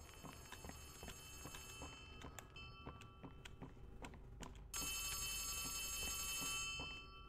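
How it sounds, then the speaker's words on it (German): A telephone rings in the horror video game Poppy Playtime Chapter 3, a repeated electronic trill with a sharper, louder burst near the end, heard alone over a low ambient hum. "Telefon?"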